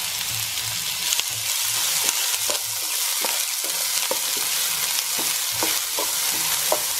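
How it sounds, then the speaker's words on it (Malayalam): Chopped onions frying in sunflower oil with curry leaves, a close steady sizzle broken by repeated scraping stirs about every half second, no voices. "ഇനി ഇതിലേക്ക് ഞാൻ 2 സവാളയാണ് ചെറുതായിട്ട് അരിഞ്ഞ 2 സവാളയാണ് ചേർക്കുന്നത്"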